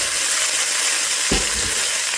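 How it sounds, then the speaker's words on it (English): Carrots and vegetables hitting a very hot pot roast pot, a loud steady sizzle with a brief burst of clatter and hiss as they land. "So just add your carrots and everything in."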